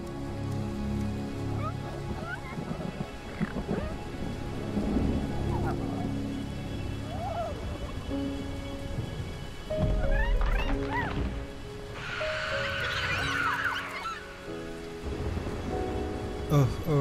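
A storm in Ori and the Will of the Wisps, with steady rain hiss, low rolling thunder rumbles and a heavier crack partway through, layered over soft orchestral game music.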